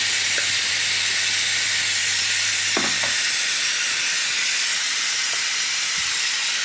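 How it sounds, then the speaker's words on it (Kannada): Masala spice powder goes into a sizzling hot-oil tempering for a banana stem stir-fry, giving a loud, steady hiss throughout with a brief clatter partway through. "ಈಗ ಇದನ್ನು ಈ ಮಸಾಲೆಯನ್ನು ಈ ಒಗ್ಗರಣೆಗೆ ಹಾಕಬೇಕು"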